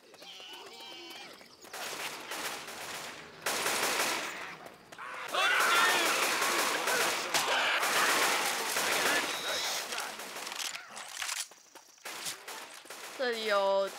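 In the PC video game Left 4 Dead, dense volleys of gunfire and automatic bursts come in loud waves with short lulls between them. Voices can be heard at times.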